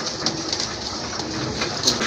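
Fancy pigeons such as Madrasi golla and raj golla cooing softly, faint low coos set against a steady hiss like light rain.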